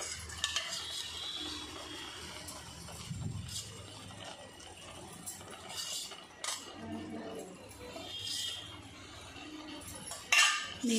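A spoon scrapes and stirs ghee into a thickening kalakand milk mixture in a pan, with soft repeated scraping, occasional metallic clinks against the pan and a faint sizzle, close and quiet, with no talking.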